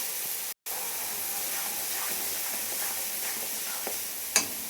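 Spice paste with tomato, coriander and chilli sautés in oil in a pan, producing a continuous soft sizzle and hiss with occasional light stirring sounds and one brief clink near the end.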